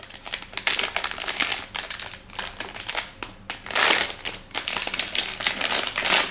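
A sealed plastic bag from a subscription box being opened, with dense, continuous crinkling and crackling in bursts of handling, loud and close, with no talk over it.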